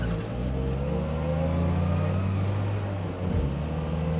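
A Polski Fiat and a Trabant, both small cars of about 20-odd horsepower, accelerating side by side in a race to 60, a continuous buzzing engine drone with rising tones and a brief dip partway through, no voices.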